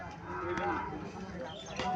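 A Sahiwal bull calf about seven to eight months old at a cattle market gives a low moo amid ambient market noise and distant voices.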